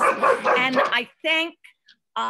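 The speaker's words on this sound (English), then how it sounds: "sorry about the dogs barking." Dogs bark in short, separate bursts in a home during an online meeting. A voice talks over them at the start.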